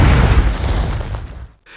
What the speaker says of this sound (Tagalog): isang malakas na pagsabog ang umalingaw-ngaw.